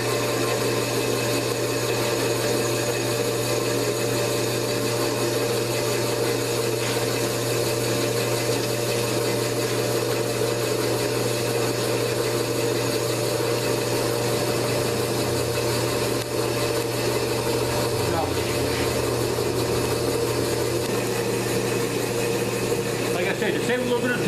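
A boring machine cuts a motorcycle engine cylinder, a steady loud mechanical whir and hum with a constant low drone throughout, shifting slightly in pitch partway through.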